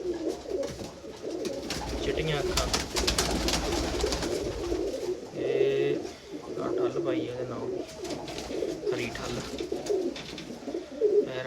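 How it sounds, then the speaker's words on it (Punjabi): Jarnail Kanewale pigeons coo in a steady, rolling murmur close by, several birds overlapping throughout, while someone talks over them nearly the whole time. "ਇਹ ਜਰਨੈਰ ਵਾਲੇ ਕਬੂਤਰ ਆ"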